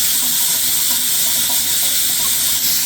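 A water tap in a luxury home runs at high pressure, giving a steady, loud, close rushing hiss that continues unbroken throughout.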